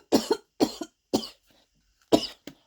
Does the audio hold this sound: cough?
yes